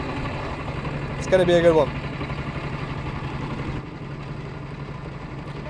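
Racing kart engines idle and drone as the karts roll slowly to their grid spots at Buckmore Park, a steady mid-pitched hum with a brief rising rev, while someone speaks briefly over it.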